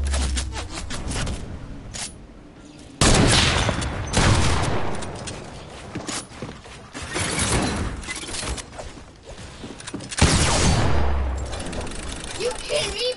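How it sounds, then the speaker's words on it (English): Bursts of rapid video game gunfire in a shooter match, loud and repeated throughout with sharp clustered volleys, while a voice talks over parts of it. "Are you shooting me, babe?"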